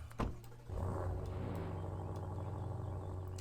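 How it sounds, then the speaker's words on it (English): A BMW idles in the Roblox driving game RoVille, giving a low, steady exhaust rumble after a brief click at the start, heard alone at moderate loudness. "These idle exhaust tones are just wicked sounding."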